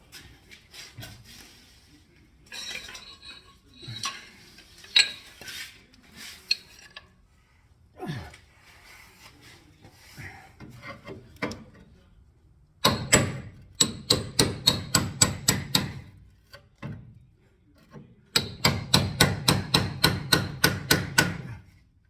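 A steel chisel is hammered into spot welds on a Datsun Z frame rail, first in scattered knocks and scrapes, then in two fast, loud runs of sharp metallic blows struck close by.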